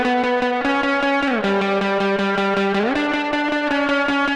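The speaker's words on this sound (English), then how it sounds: "And let's crank the spring reverb." Electric guitar played through a Safari Pedals spring reverb pedal with the reverb turned all the way up, sustained chords shifting in pitch, each note washed in a thick, splashy reverb tail, loud and close with no talking.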